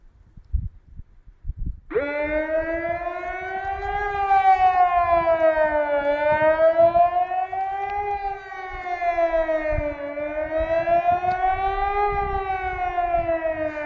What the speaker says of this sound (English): So there's one siren over there, and then one all the way down there behind.